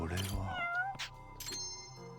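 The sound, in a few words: cat meowing in video game Judgment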